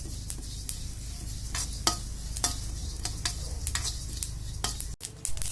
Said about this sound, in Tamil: எள்ளை வறுத்துக்கணும். பொரியிற அளவுக்கு வறுத்துக்கணும். கருப்பு எள்ளு